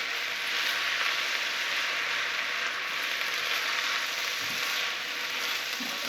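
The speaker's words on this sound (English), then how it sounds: "saute the onion in with the steak" Onion sautéing with steak in a hot pan gives a steady, loud, even sizzle that runs the whole time, with a few faint stirring scrapes underneath and no voices.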